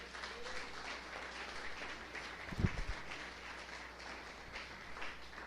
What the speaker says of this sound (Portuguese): Uma salva de palmas ao Senhor Jesus.